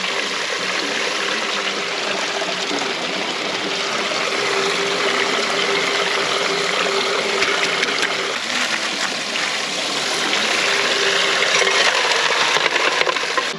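A gold prospecting wash plant runs with a water pump, giving steady rushing and trickling water over a low mechanical hum, constant and fairly loud throughout with no talking.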